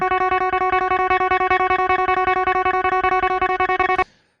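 A clean, undistorted DI electric guitar plays fast, steady chugging notes with a bright, dry tone, then stops abruptly and rings out briefly.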